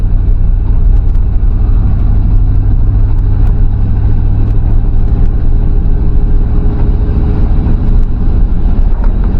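A 1968 grain truck's gas engine drones steadily in four-wheel-drive high at about 30, a loud continuous low rumble with road noise and no talk.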